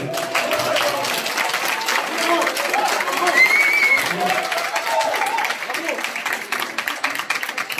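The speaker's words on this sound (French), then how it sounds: "un tonnerre d'applaudissements" A crowd applauds steadily and loudly at the opening of a BYD car dealership in Paris, dense clapping with scattered cheers and chatter filling the whole stretch.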